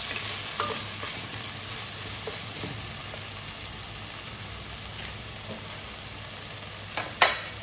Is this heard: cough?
no